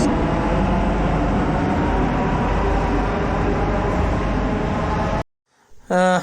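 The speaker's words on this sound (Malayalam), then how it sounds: "എന്തായാലും നമ്മൾ മെട്രോയിൽ കയറിയിട്ടുണ്ട്" Delhi Metro train in motion, a loud, steady broadband rumble and rail roar filling the carriage for about five seconds, then a sudden cut to near silence before a short burst of a voice or announcement.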